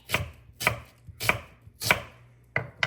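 A knife chopping onions on a cutting board, six crisp evenly spaced strikes about half a second apart, close and clear with no talking.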